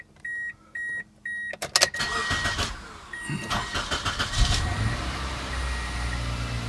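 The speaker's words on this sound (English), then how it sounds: "We'll go ahead and start the car." A car engine cranks over after a few chimes and starts up, then settles into a steady idle, heard close and alone with no talk; emission-related diagnostic codes for an oxygen sensor had just been cleared.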